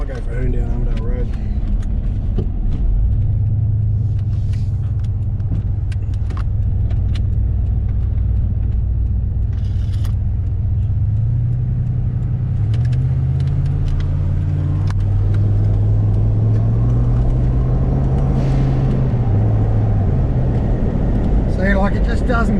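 A tuned car's engine drives along a road with a continuous low rumble, rising and falling in pitch through gear changes and acceleration, while a person talks over it from inside the car.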